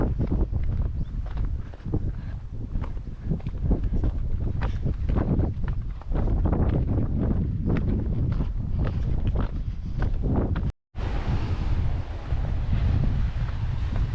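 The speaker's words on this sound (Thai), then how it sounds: "ลมแรง คลื่นแรง" Strong wind buffets the microphone on a small sandy beach at Caniçal, Madeira, with rough surf crashing below and footsteps heard along the way. The roar is loud and continuous, with one brief dropout near the end.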